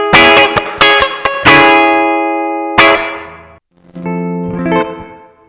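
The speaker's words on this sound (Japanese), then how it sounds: "何の変哲もないプレートリバーブですね" An electric guitar runs through a Strymon BlueSky reverb pedal in plate mode with every knob at noon. Loud plucked notes and chords each ring out into a smooth, lingering plate tail, with a short silence before a final quieter phrase.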